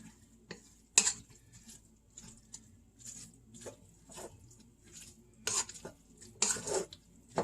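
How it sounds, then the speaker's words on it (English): A utensil stirs cooked ground beef in a pot, producing soft scraping and clinking strokes at an irregular pace, fairly quiet and close, with a few sharper knocks against the pot. "stirring it around again to get it incorporated"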